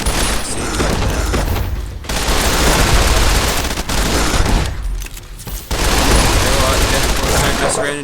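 Automatic gunfire from the Assault Carbine in Fallout New Vegas, rapid sustained bursts that stay loud and close, broken by two short pauses before the shooting resumes.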